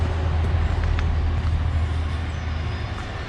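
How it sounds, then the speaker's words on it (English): A train passes near Standedge Tunnel outside Huddersfield, a steady loud low rumble with a strong droning hum that holds for a few seconds and eases slightly toward the end. "There's another train there."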